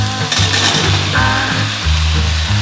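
Chopped raw pumpkin tipped in with onions frying in a pan, giving a steady loud sizzle with a few stirring scrapes and light clinks of a utensil, no talking.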